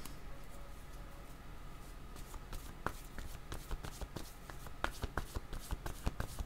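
Tarot cards shuffled and drawn by hand during a reading: quiet, close riffling and brushing with scattered sharp card snaps and taps, irregular and soft, with no voice.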